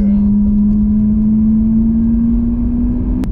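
A Ferrari sports car engine with its straight pipes opened to bypass the mufflers, giving a loud, steady high drone whose pitch creeps slowly upward as it revs, ending abruptly.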